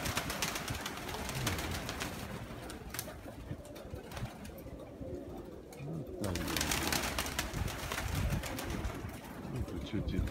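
White-winged pigeons cooing in a loft, low repeated coos under steady bird chatter and occasional wing flutters, with someone talking nearby throughout.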